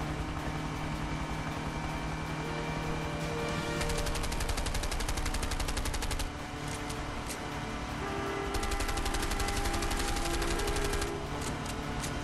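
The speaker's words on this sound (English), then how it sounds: "you gotta shoot" Rapid machine-gun bursts come in two loud clusters during a driving shootout in the video game A Way Out, over a constant rumbling engine drone.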